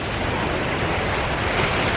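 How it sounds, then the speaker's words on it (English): Violent floodwater rushing close by, a loud, steady broadband roar of churning water mixed with wind buffeting on the microphone, with no talking. "Crazy violent waters out here."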